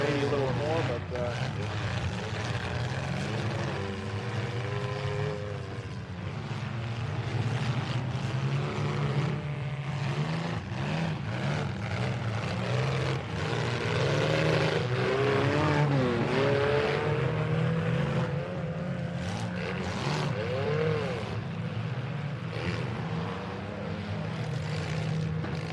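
Compact class race cars, about ten of them, battle through a heat at the Bash for Cash 2021 event. Their engines make a steady, loud, overlapping drone throughout, and a commentator talks over the racing.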